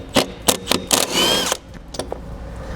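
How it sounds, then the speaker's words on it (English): A 3/4 inch socket wrench loosening a nut on the cutting edge of a SnowFire snow plow, heard as a few sharp ratcheting clicks and metallic bursts close by, with no talking. "So you just take a 3/4 inch socket, loosen this nut"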